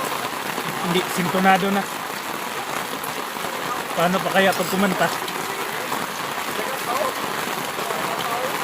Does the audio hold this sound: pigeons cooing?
no